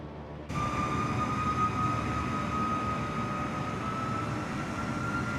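Cessna SkyCourier twin-turboprop engines in Microsoft Flight Simulator 2024 come in suddenly after a brief quiet moment, then hold as a loud, steady drone with a sustained whine over it.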